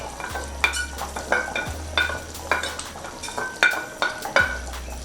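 Onion and chives stirred into a pot of simmering smoked fish moambe stew, with repeated utensil scrapes and clinks against the pot over a low sizzling bubble, close and fairly loud.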